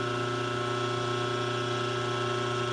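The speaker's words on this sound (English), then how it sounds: "I gotta get a drill bit in here and drill these two bottom holes" A power drill runs without a break in a steady, even whine with a low hum beneath it while drilling holes. It sounds close and continuous, with no talking.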